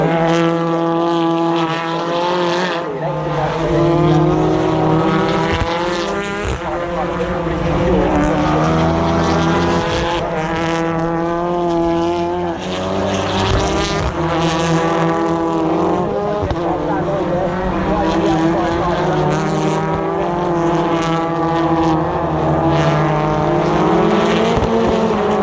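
BTCC touring cars race on the final lap at Thruxton in May 2022, with loud, continuous engines rising and falling through gear changes and cars running close together.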